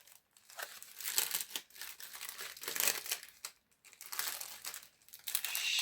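Stiff cellophane from magazine stickers crinkles and crackles continuously as it is cut apart, with dense bursts of rustling and brief pauses, close and fairly loud.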